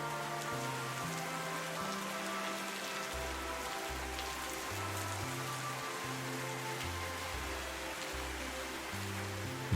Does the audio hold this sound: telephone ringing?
no